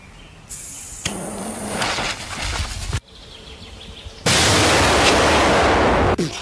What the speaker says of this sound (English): Let's take a fireworks break and ask, is there a point when the firework is too big?